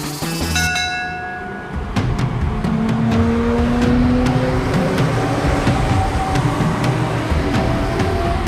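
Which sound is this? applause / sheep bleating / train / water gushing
train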